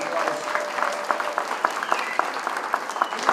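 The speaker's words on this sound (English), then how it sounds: "How about a round of applause?" A luncheon crowd at a Hyde Park 150th anniversary event applauds a sponsor, a steady round of many hands clapping at moderate volume, with sharper individual claps standing out.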